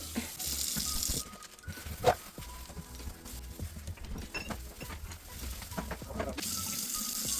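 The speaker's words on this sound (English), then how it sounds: "First, we have to rinse the sink out to get rid of any all-purpose cleaner." Tap water runs into a sink as it is rinsed out to clear away all-purpose cleaner, a steady close rush of flow with a few clatters and knocks, and louder gushing at the start and end.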